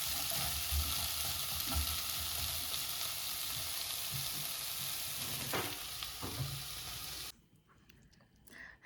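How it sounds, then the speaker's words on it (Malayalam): Mustard seeds and masala fry in hot oil for sambar with a loud, continuous close sizzle and faint stirring scrapes, then the hiss cuts off sharply near the end. "ഇനി ഇതിൽ കടുക് പൊട്ടിച്ച് മസാലയൊക്കെ ഇട്ട് ഒന്ന് മൂപ്പിക്കട്ടെ"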